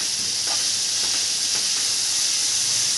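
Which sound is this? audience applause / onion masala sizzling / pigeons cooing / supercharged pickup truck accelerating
onion masala sizzling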